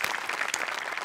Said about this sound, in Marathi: सचिन मोठेसाठी टाळ्यांचा कडकडाट